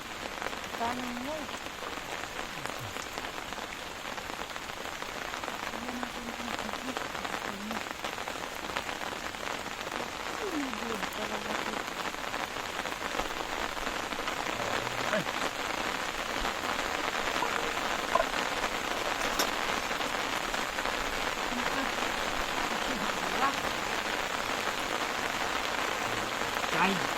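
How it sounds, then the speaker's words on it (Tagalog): Steady rain falls on a garden in a dense, even hiss of drops that continues unbroken and fairly loud throughout. "tumigil mo lang sana itong ulan"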